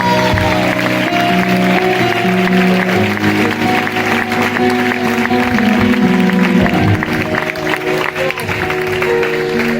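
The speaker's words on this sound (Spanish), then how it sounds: "le dan un fuerte aplauso a Dios" Congregation applause during a church sermon, a sustained wash of clapping under steady music with sung or spoken voices over it, loud and continuous throughout.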